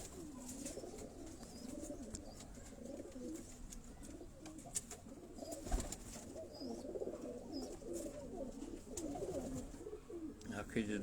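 Pigeons cooing in repeated soft, rolling calls close by, mixed with low-level speech and occasional clicks and rustles in the background.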